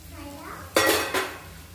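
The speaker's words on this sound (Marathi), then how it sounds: "प्लेट काढायची साईडला" A metal plate lifted off a pan of masala bhendi (spiced okra), giving two close clattering clanks about a third of a second apart over a quiet kitchen background.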